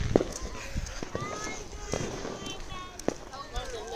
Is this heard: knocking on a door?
no